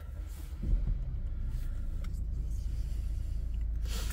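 BMW X5 xDrive25d diesel SUV starting up with a brief crank, then settling into a steady low idle rumble heard from close by.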